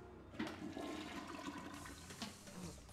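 Water rushes steadily from a sink tap in Luigi's Mansion 3, a dense continuous gushing that swells slightly partway through and holds for the whole short stretch with no voices.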